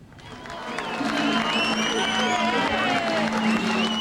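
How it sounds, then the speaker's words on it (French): Hundreds of supporters at a 1995 Quebec referendum campaign rally in Saint-Jean-sur-Richelieu cheer and applaud, a swelling crowd roar with whistles and shouts rising quickly and holding loud. "Encouragé par l'acclamation de centaines de militants et de gens d'affaires du comté baromètre de Saint-Jean"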